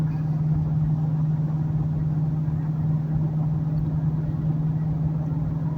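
A 2000 Ford Expedition hauling a load of large firewood rounds rolls down a long 5% downhill grade, its engine a steady, unbroken low drone with a constant hum and no talk.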